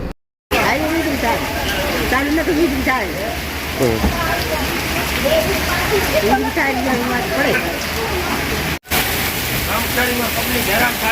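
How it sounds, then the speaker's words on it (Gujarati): Heavy afternoon rain pours down steadily around Samakhiyali village in Gujarat, a dense continuous hiss with people talking underneath for the whole stretch. "બપોરના સમયમાં વરસાદ શરૂ થયો હતો"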